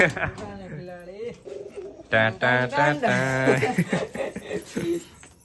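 Pigeons coo close by in a series of soft rolling calls, with human voices mixed in between them.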